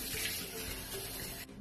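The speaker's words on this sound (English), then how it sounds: "So okay, I'm gonna wash my face." Tap water runs steadily into a sink during face washing at home, a continuous close hiss that stops abruptly near the end.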